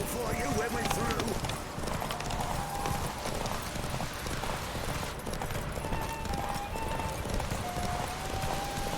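Hooves clip-clop at a fast gallop as a horse runs in the Witcher 3: Wild Hunt video game, a steady rhythmic pounding with faint melodic game music and a voice speaking over it.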